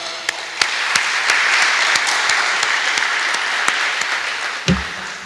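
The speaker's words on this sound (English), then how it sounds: "take a time out to give a clap to yourself for a job well done" Graduates of the Class of 2022 at a secondary school ceremony clap for themselves, steady sustained applause from a large crowd with a few sharper nearby claps standing out and a thump near the end.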